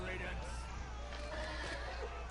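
A horse neighs within the Game of Thrones Telltale video game, a whinny mixed into dense game sound with hoof-like clatter and people talking over it.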